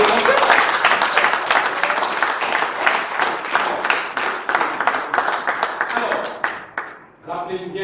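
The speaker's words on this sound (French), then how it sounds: "Alors applaudissez pour le concept." An indoor audience breaks into loud, dense applause at a French-language entrepreneurship talk, clapping steadily for several seconds before fading out as a speaker resumes.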